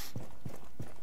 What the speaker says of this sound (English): I can hear him walking around.